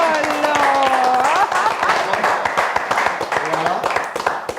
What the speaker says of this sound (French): on peut quand même l'applaudir.